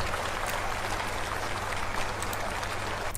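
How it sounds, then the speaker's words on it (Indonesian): Crowd applauding at a public event attended by political figures, a dense continuous clatter of many hands clapping at moderate distance, steady throughout with faint voices mixed in. "banyak tepuk tangan"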